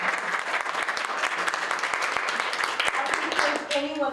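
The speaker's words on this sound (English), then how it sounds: "How about a round of applause for us?" Dense clapping from an audience at a presentation carries on steadily, and a voice begins speaking near the end.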